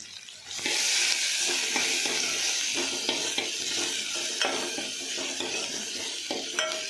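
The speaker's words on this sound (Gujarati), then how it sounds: "ત્યારબાદ એમાં ડુંગળી નાખી દઈશું।" Onion goes into hot oil already seasoned with asafoetida, curry leaves and ginger-chili paste, and a loud, close sizzle bursts up and holds steady while a spoon stirs and scrapes against the pan.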